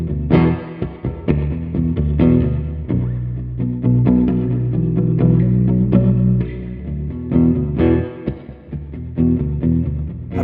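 A baritone guitar plays chords and riffs through an EHX Turnip Greens overdrive pedal, thick and gritty with sustained distorted notes and no voices.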